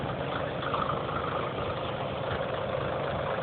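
Heavy equipment engines at a dump idle after a cold morning start with a steady, low diesel rumble that is loud and continuous, and no one speaks.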